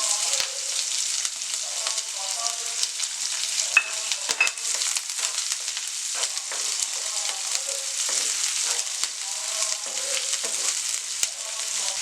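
Onions frying in a pan with lentils, urad dal and curry leaves for a kale poriyal, giving a steady, loud sizzle throughout with occasional stirring scrapes and pops.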